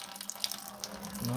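Fluid trickles and drips from the radiator of an Oliver 70 tractor after its cap is loosened, a soft, steady watery patter with faint voices in the background.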